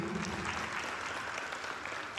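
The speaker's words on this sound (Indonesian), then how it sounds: "Berarti ya boleh tepuk tangan dulu." Applause from a school audience at a talk show, a steady wash of clapping that carries on throughout at a moderate, somewhat distant level.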